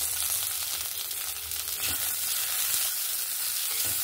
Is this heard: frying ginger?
yes